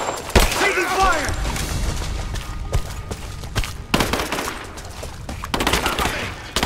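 Gunfire from the Rise of the Tomb Raider video game, with rapid bursts and sharp shots crackling through a dense battle mix, several louder impacts standing out, while voices call out over the fighting.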